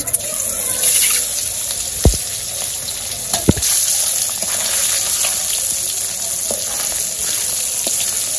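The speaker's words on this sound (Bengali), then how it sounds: "তো তেল গরম হয়ে গেছে ডিমগুলা দিয়ে দেই" Eggs frying in hot oil make a continuous close sizzle with a few sharp pops and crackles, and no talking is heard.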